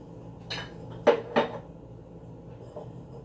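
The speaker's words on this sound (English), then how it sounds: "we just plop the plant back in the pot, terracotta pot" A potted herb plant set back down into a terracotta pot resting on a saucer, giving two close, sharp clay knocks in quick succession against a faint quiet background.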